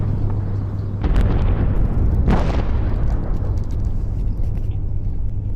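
Explosions from airstrikes on Asadabad in western Iran, with a sudden boom followed by a second sharper blast, loud and close over a constant low rumble.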